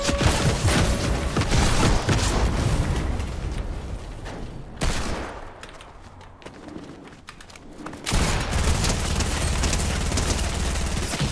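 Gunfire in Fortnite, bursts of rapid shots and booms that fill the opening seconds, drop to a quieter lull in the middle, then return loud near the end.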